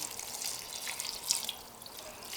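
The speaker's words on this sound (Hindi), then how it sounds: "ये हम इसमें पानी डाल देंगे।" Water splashes and trickles into a cooking pot holding onions for mutton yakhni pulao, a light, bright pouring sound with small drips, fairly quiet and close.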